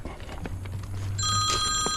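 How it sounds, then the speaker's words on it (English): A telephone rings loudly and close by in a bright, steady electronic tone that starts partway through, over outdoor ambience and low rumble during a walk toward the river. "Every time I want to record, the phone rings."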